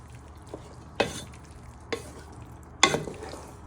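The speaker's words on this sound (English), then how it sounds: "then you just want to give that a careful stir in" Cannellini beans stirred into a pan for a sausage, bacon and bean casserole: a soft sizzle under three distinct scraping stir strokes, close and fairly loud.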